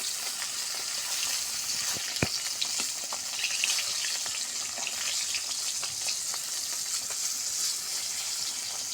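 Koi fish frying in a pan of hot oil, giving a loud, steady sizzle throughout with scattered crackles and one sharp pop, and no voices.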